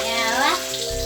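Water splashing and running during dishwashing in a home kitchen, a close, loud wet wash with a brief whooshing surge, with a voice briefly mixed in.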